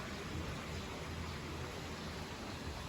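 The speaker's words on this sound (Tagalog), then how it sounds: "Hala, umulan din. Umuulan." Steady rain falls outside a hotel in Baguio on a foggy day, a dense even hiss with no distinct drops, moderate in level and unbroken with no voices.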